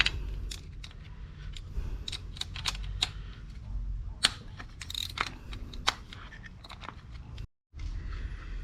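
A ratchet or wrench works loose 10 mm valve cover bolts on a 1.8T Audi A4 B6/B7, giving sharp scattered clicks and metallic ticks with quiet gaps and a brief dropout near the end.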